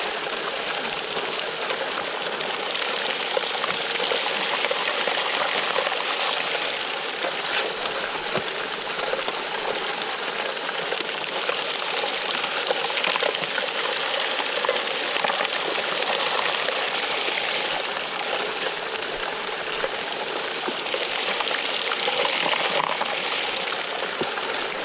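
Water of Doctor's Creek flowing steadily over rocks, an even, continuous rushing that stays at the same level throughout with no voices.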